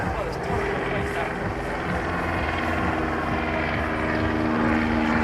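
Aircraft slow flying overhead at an air show, a steady droning propeller and engine roar that holds throughout without a break.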